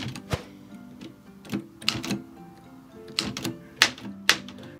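Old mechanical typewriter typed slowly and unevenly, with sharp isolated key strikes and clacks spaced irregularly over a quiet room, close and moderately loud, no talking.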